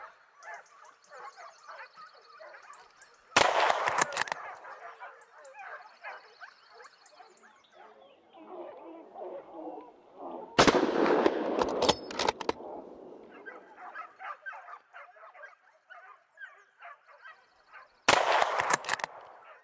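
Three loud gunshots at a wild boar hunt in Portugal's Alentejo, spaced several seconds apart, each a sharp blast with a short rolling tail, over steady background birds and ambient outdoor noise.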